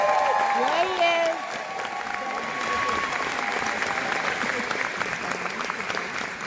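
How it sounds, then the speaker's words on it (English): Sustained applause from a crowd greeting Scott Presler at a live talk-show event, steady and dense for several seconds, with voices and some cheering mixed in. "Scott got a louder round of applause than I did"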